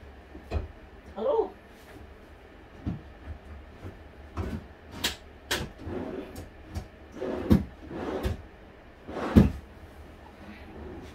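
A wooden drawer being pushed into a cabinet during home furniture assembly, with several sharp knocks and scrapes at uneven intervals, close and moderately loud, and soft voices talking between the bumps.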